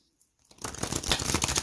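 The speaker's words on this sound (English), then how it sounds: "Let me give it a good shuffle." A deck of tarot cards gets a quick shuffle, a close dense riffle of flicking and rustling that starts after a short silence and continues steadily to the end.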